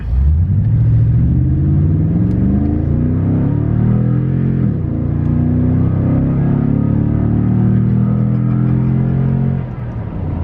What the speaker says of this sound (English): I love the way the exhaust sounds on here